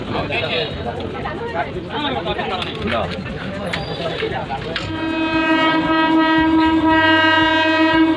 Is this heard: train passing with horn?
yes